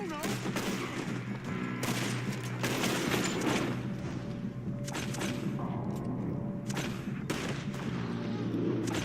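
A continuous gunfight in Red Dead Redemption 2, with dense overlapping shots and cracks from several guns over a steady rumble, some reports close and others more distant, with voices mixed in.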